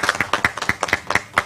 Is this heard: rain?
no